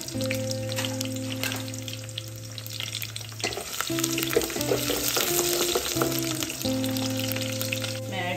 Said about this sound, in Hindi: लहसुन को हमने हल्का सा फ्राई करना है।